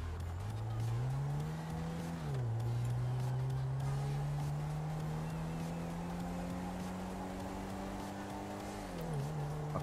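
A BMW i8 sports car revs and drives in GTA 5, its engine note climbing steadily, dipping briefly at shift points, and climbing again, loud and close throughout.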